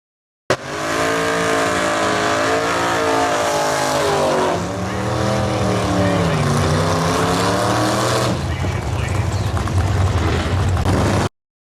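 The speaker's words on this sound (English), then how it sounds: "go ahead and pull your cars into the pit and get your tires warmed up for the race" Drag racing cars, including 1948 and 1951 Anglias, pull into the pit and warm up their tires, with loud, sustained engine roars, shifting revs and tire noise running continuously for several seconds.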